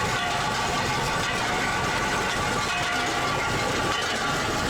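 A rail draisine rides an old narrow-gauge forest railway in the taiga, giving a loud, steady rumble and rattle of wheels on track with no pauses.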